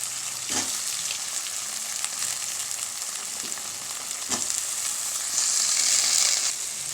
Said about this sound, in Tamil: கத்திரிக்காய் தக்காளி எல்லாம் நல்லா வதங்கிருச்சு